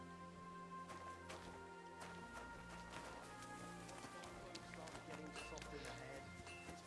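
Horse galloping in a video game, a steady run of hoofbeats beneath music and voices, with the clip-clop holding an even rhythm for the full span.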